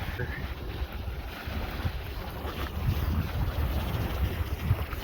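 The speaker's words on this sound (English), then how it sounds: "I don't think we're gonna go much further than this because it's way too windy" Strong wind rumbles steadily and buffets the microphone on Greers Ferry Lake. Faint water and choppy waves sound underneath throughout.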